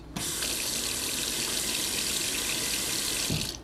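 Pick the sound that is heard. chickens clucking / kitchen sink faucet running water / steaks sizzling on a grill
kitchen sink faucet running water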